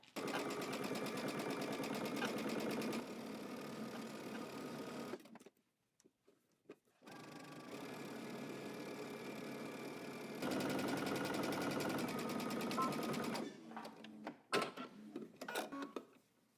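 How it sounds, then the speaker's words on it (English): A sewing machine stitches across the front and around a sewn top, running in long steady bursts with brief pauses between passes. "we're going to head to the sewing machine and we're going to stitch across the front all the way around our top"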